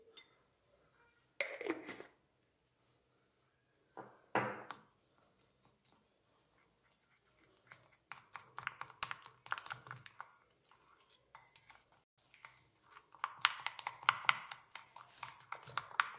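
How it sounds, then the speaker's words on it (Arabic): Instant coffee being whisked into egg white in a bowl, heard as brief scattered taps and clinks early on, then a longer stretch of steady, close scraping and clattering of a utensil against the bowl. "نخلط حتى تذوب قهوة مع بياض البيض"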